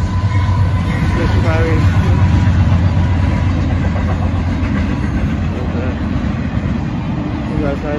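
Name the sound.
Union Pacific northbound empty freight train passing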